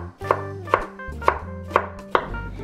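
A knife finely slicing white onion on a cutting board, taco-style, for burger meat: five crisp, evenly spaced chops ring out close and clear, with no talking.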